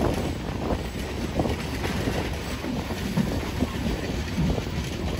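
The Tamralipta Express pauses briefly at Ramnagar station, a steady dull rumble and low rolling noise with wind buffeting the microphone and faint scattered knocks, no talk.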